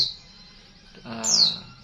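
A young bustos bird, newly separated from the flock, gives two short, bright chirps about a second apart, the second louder and sliding downward, close to the listener.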